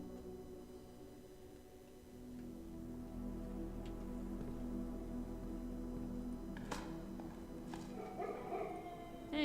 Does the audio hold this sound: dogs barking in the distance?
yes